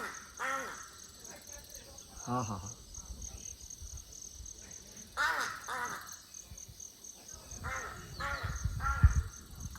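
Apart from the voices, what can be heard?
birds calling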